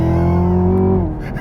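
A 2017 Chevy Camaro ZL1 V8 exhaust booms loud and close on a downshift, a deep steady tone that drops sharply in pitch near the end as the revs fall away.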